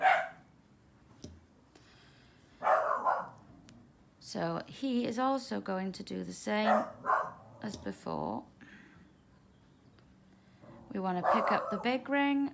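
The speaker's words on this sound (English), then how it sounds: "You have to excuse my dog, I'm afraid." A pet dog barks in a few sharp bursts, near and fairly loud, between stretches of someone talking indoors while working on chain maille rings.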